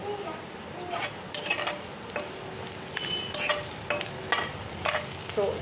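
Chopped garlic frying in a pan for homemade veg Manchurian, a steady close sizzle broken by clinks and scrapes of a spoon stirring against the metal pan, with no talking.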